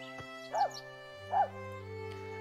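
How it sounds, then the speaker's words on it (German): A dog in the video game Harvest Island gives two short whimpering yelps about a second apart over a steady droning background, close and fairly clear, with no talking. "Ein Hund."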